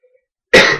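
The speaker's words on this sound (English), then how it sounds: "So I had to cough." A single sharp cough bursts out loud and close after near silence, ending abruptly.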